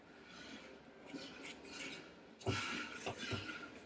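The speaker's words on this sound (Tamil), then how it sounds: "நீங்கள் இருந்தாலும் கிண்டிக்கிட்டே இருங்க." A ladle scrapes and clinks against a cooking pot while thiruvathirai kali is stirred, with faint rasping strokes and a couple of sharper metallic knocks in the second half, quiet and close.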